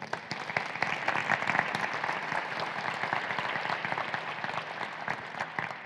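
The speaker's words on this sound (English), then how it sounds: "I want to offer applause to the students that are here" Audience applause for students presenting posters at a research institute update talk: a steady, moderately distant patter of many hands clapping, fairly even in rhythm and without any voices.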